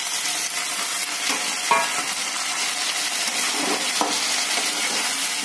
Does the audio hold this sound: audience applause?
no